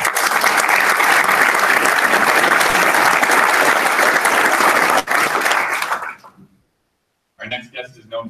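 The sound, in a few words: audience applause welcoming speaker Ian McGregor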